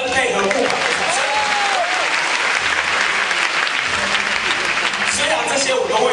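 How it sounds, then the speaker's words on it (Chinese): Audience applause at a university taekwondo demonstration during a freshmen night event, a sustained burst of crowd clapping filling the whole stretch, loud and dense. "是不是要清脆的掌声配合木板的掌声？"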